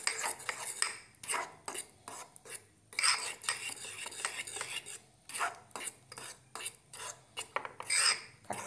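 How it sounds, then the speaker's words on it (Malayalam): A metal spoon scrapes and clinks against a mug as cake batter is stirred, a quiet, rhythmic series of rasping strokes repeated steadily at close range with no talking. "നന്നായി മിക്സ് ചെയ്യാം."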